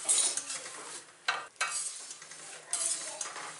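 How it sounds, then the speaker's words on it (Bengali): Puffed rice (muri) is stirred in a hot pan, a steady dry rustling and scraping with a few louder sweeps of the utensil, close and alone with no voices. "এখন আমি গরম গরম মুড়ি ভাজি"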